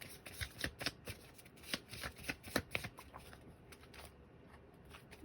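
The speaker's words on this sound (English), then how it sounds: "Y'all seen me shuffling the cards." Tarot cards are shuffled in a quick, irregular run of soft riffles and flicks, fairly close and fairly quiet, easing off toward the end with no talking.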